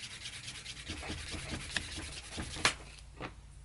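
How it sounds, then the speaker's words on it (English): Rhythmic rubbing strokes burnishing the rough cut edge of a leather Ghostbusters belt fob, a steady back-and-forth friction sound with a couple of sharper scrapes, fairly quiet and close, with no talking. "A little bit of burnishing."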